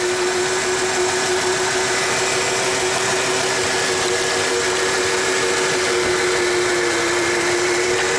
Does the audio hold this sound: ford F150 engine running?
yes